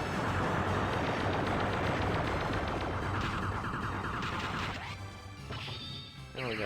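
A cannon blasts in the shoot-'em-up Radiant Silvergun: a loud, continuous crashing barrage that ends in a burst of electronic tones and chiming game effects.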